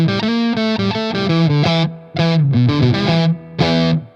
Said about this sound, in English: This is the Medici fuzz from Italy from Dophix